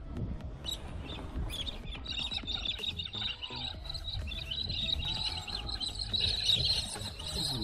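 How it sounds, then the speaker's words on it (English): Birds call and chirp in bursts over steady wind rumble, high-pitched cries rising toward the end, fairly close and loud, as agitated birds attack a small FPV drone. "Very angry birds there."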